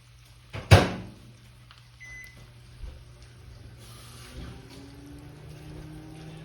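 A microwave oven thawing bratwurst: a thump as it starts, then a steady low hum with a faint beep and soft rattles, close by.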